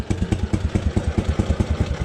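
A motorcycle engine idles with a steady rattling, chugging pulse at close range, its rapid even beats running throughout with no talk over it.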